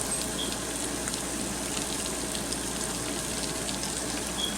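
Shrimp fry in a pan with a steady, dense sizzle and crackle that holds at an even level throughout, with no voices.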